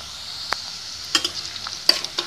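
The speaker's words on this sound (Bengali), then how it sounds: "রসুনটাও একটু ভাজবো," Chopped garlic frying in oil for red sauce pasta, a soft steady hiss punctuated by several sharp spatula scrapes and taps, close and moderately quiet, no speech.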